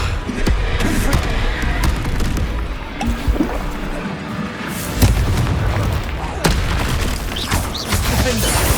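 Booming blast-spell explosions from the video game Hogwarts Legacy, with repeated deep impacts over dense, loud combat noise and a continuous game score.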